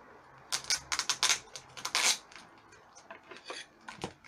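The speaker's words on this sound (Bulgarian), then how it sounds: "Ще поставим фиксо отгоре до долу." Adhesive tape being laid and rubbed down along the spine of a school textbook during repair, heard as a run of soft, dry rasping and rubbing strokes, several quick bursts, close and fairly quiet with no voices.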